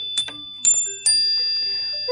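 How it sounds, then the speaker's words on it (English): A hand chime struck three times in an art room, each bright metallic ring rising clearly and hanging on with a long, slowly fading shimmer; close and fairly loud, with no voices. "if you hear me ring the chime"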